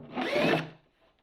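A short burst of drilling into wood with an 11/32 drill bit, a rough whirring grind lasting about half a second before fading into quiet.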